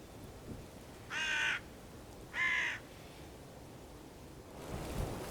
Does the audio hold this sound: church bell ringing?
no